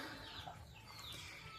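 Chickens cluck faintly outdoors in a yard where grains are scattered for them, a soft, steady murmur of fowl with no voices.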